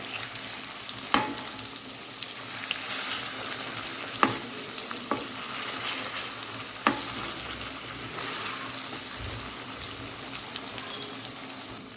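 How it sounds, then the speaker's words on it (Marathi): Eggs fry in a pan with a continuous moderate sizzle, broken by a few sharp clicks and scrapes as they are turned over, no speech. "खालचे वर वरच्या खाली करून घ्यायचे म्हणजे दोन्ही साईडनी व्यवस्थित फ्राय होतात"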